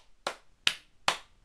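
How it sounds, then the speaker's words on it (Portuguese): Four sharp hand claps ring out one by one at an even pace, each crisp and close with a short decay, spaced about four tenths of a second apart and with no talk over them. "palmas pro Felipe Neto."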